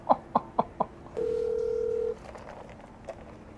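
A phone dials with four quick keypad beeps, then a steady dial tone holds for about a second before fading into quiet line noise with a faint blip.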